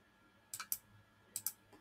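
Mouse clicks on a save button come as two quick pairs of sharp, close clicks with a short gap between the pairs, over a quiet background.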